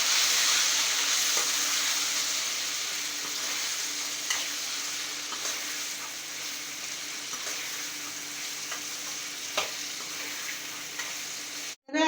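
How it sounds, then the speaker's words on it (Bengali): Green peas tossed into a pan of potatoes already fried red in oil, sizzling and crackling steadily at close range with occasional stirring clicks, no voices over it. "এর ভিতরে মটরশুঁটিটা একটু দিয়ে একটু ভেজে নেব"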